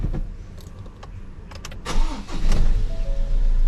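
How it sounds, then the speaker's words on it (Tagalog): A 2021 Ford Ranger 2.2 diesel cranks and starts, rising from quiet to a louder steady idle after about two seconds, recorded close to the engine bay. "So tara, paandarin natin. Start."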